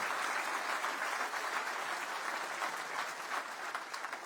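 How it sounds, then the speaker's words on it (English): A crowd at a Nigel Farage political speech in Scotland claps steadily in a large venue. The applause is dense and sustained, with no talking over it. "Another round of applause."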